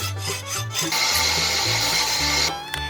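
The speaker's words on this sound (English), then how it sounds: "Then I cut 2 notches in the aluminum to match the notches in my cover, using my hacksaw." A hacksaw cutting notches into aluminum bar stock for an RV roof fan cover install, quick close rasping back-and-forth strokes with a bright metallic ring, continuous and loud.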